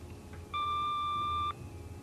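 A single answering machine beep, a steady electronic tone held for about one second, sounds alone against faint background hiss on a phone message recording.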